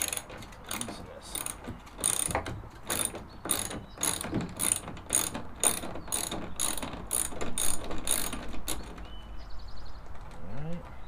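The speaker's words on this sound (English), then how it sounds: "I've got my 8mm ratchet, so let's see if we can, that's tightening" An 8mm ratchet turns bolts on a truck bed toolbox, giving rapid bursts of sharp clicking that repeat steadily, close to the microphone, and then stop near the end.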